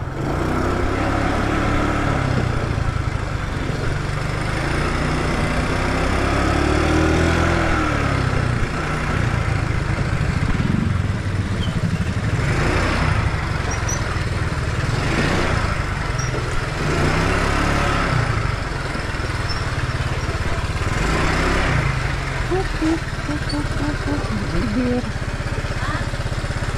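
A motorcycle engine runs steadily up close for the whole stretch, a continuous idling drone with a few swells of revving, while people talk faintly underneath.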